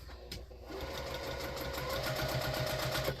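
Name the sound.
sewing machine stitching fabric a quarter inch around a circle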